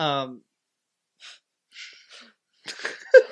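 A sharp sneeze bursts out near the end, after a brief voiced sound and some quiet breathy noises.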